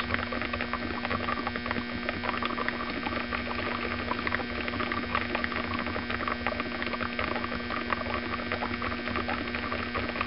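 Continuous bubbling and gurgling of an HHO generator's bubbler under a steady electrical hum, an even churning texture with no pauses.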